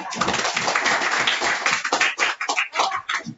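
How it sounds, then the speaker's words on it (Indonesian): Classroom students clapping together after a lesson, a dense burst of many hands with irregular claps throughout, close and fairly loud, with voices mixed in. "Ayo kita kasih tepuk tangan untuk kita."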